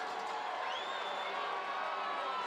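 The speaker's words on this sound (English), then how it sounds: "Debo trying to get the big Husky crowd into it." A big Husky home crowd at a high school football game between Port Huron Northern and Lakeview roars in a steady, dense wash of cheering and whoops, with a thin whistle-like tone sliding across it.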